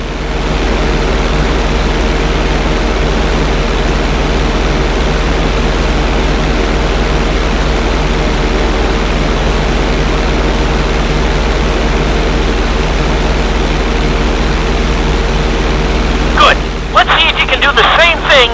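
Airplane engine drones steadily in GTA V while the plane holds a knife-edge on its side, a constant low roar throughout with a brief burst of sharper noise near the end.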